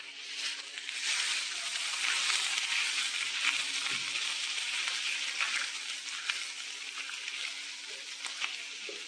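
A spice mixture with salt being sautéed for stuffed brinjal, a continuous soft sizzle with a faint hum, steady and close throughout.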